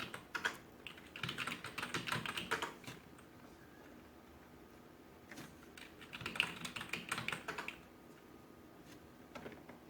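Computer keyboard typed on in two quick bursts of clattering keystrokes with a quiet pause between, close and alone, as a terminal install command for GNOME Tweaks on Kali Linux is entered.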